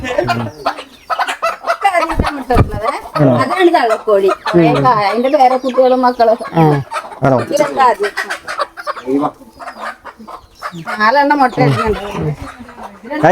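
Two newly bought egg-laying hens cluck in a home yard, with repeated close, loud clucks and squawks coming in bursts while people talk throughout.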